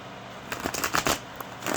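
Higher Love Soul Link Oracle cards are shuffled close up, giving a brief flurry of soft, papery riffling and slapping sounds.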